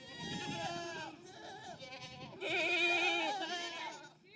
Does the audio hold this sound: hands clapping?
no